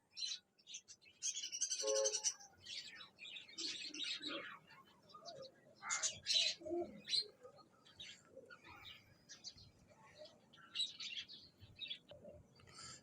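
Pigeons kept by a pigeon club in Chishtian give soft scattered chirps and coos, with short bursts of calls coming and going at a low level in otherwise quiet surroundings.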